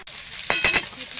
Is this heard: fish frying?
yes